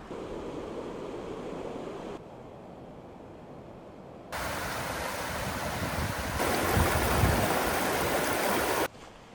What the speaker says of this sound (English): We're walking up to the waterfall now.